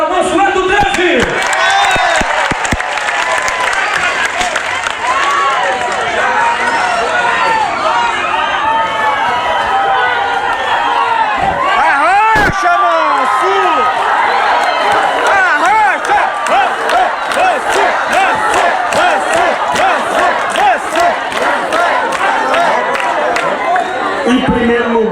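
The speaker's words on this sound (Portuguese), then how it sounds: "Uma salva de palmas para Mansueto 13!" Dense crowd noise at an outdoor political campaign rally in Buriticupu erupts loudly, with cheering, shouting and scattered clapping sustained throughout, and voices in the crowd yelling over each other.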